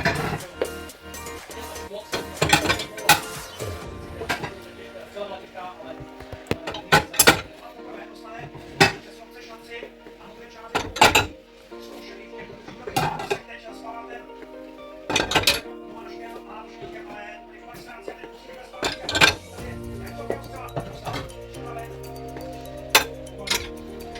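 Plates and dishes clink and clatter as they are loaded into a full-size Hotpoint Hydroforce H8IHP42L 15-place dishwasher, sharp irregular ceramic knocks scattered across a quiet room, with a voice talking between them.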